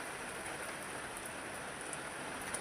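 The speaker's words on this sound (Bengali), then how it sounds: "বৃষ্টির মধ্যে ভিজবে" Rain falls steadily outdoors in a continuous, even hiss, fairly faint and without a break, with no voices over it.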